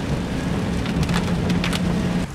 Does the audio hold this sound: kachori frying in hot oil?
no